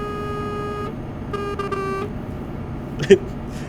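A vehicle in a road convoy sounds its horn while driving past, with short horn toots and a quick blip under a low rumble of road noise.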